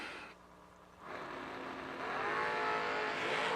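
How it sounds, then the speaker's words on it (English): A Camaro drag racing car at a $250K drag racing event launches hard down the strip, its engine rising from a low idle into a loud, climbing roar that swells over several seconds with no talk. "Brandon hot shoeing the Suns Camaro."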